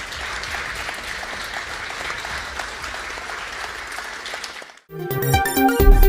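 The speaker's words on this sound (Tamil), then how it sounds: "எல்லோரும் எழுந்து நின்று பலமாக கைத்தட்டுவோம்" Crowd at a large political rally rising to its feet and applauding loudly after a tribute to party workers; a dense, steady wash of clapping for several seconds, then a brief drop before music bursts in.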